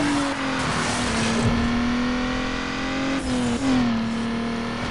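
A race car overtaking in the video game Need for Speed Underground, engine whining steadily and close, with pitch dips at gear shifts and a brief tire squeal, no talk over it.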